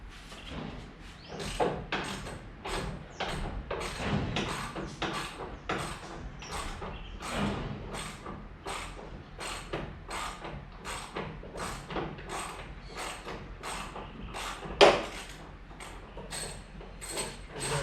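Nuts being undone with a ratchet while removing the 1600 crossflow engine from an old Ford Capri, a steady run of close clicking strokes with one sharper knock near the end.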